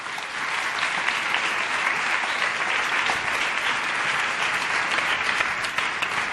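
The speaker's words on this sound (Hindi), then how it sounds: "तो ताली बजा के खुदा के महिमा करें" A church congregation claps together during a Palm Sunday worship service, dense steady applause filling the room at close range, sustained and even throughout with no pauses.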